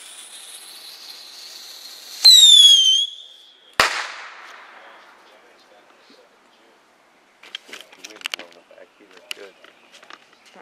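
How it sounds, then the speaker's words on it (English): A bottle rocket firework launches outdoors with a loud, shrill whistle. About a second later a single sharp bang follows, then a fading hiss and quiet outdoor ambience with faint sounds. "Light off a bottle rocket."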